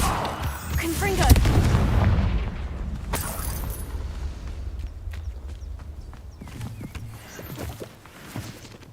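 A Confringo fire spell detonating in the game Hogwarts Legacy: a heavy booming blast near the start, then a sharp second crack and scattered smaller impacts fading away, with someone speaking over the action.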